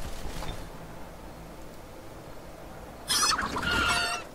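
A chicken in the fantasy strategy game Age of Wonders III gives a short burst of clucking and squawking near the end, loud against a quiet background hum.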